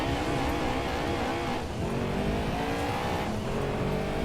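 Lancia Stratos rally car in the Gran Turismo 2 video game, driving Pikes Peak downhill: a loud, continuous engine drone whose pitch climbs and shifts through gear changes, with some tire noise and no talking.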